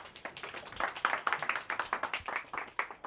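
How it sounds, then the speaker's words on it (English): A small audience at a live business talk gives a round of applause, sparse distinct hand claps in a loose, quickening rhythm, fairly faint and close. "All right, give me a round of applause one more time."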